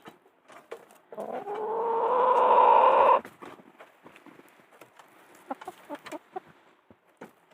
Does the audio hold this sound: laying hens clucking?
yes